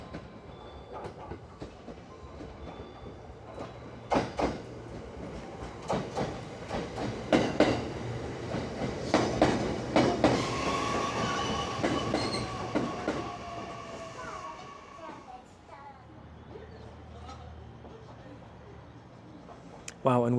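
A single-carriage Kishu Railway train rolls into a small platform, its wheels clacking and squealing as it draws near and grows louder, then slows and fades to a rumble, with people talking over it.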